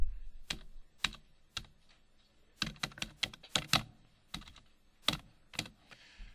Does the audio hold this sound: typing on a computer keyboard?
yes